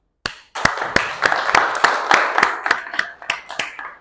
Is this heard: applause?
yes